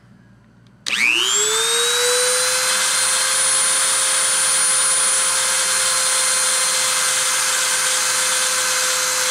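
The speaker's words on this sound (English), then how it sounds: "I'm going to spin the spindle up" High-speed spindle spinning up to 30,000 RPM, starting abruptly with a rising whine that climbs and settles into a loud, steady tonal hum with high harmonics, continuing alone throughout.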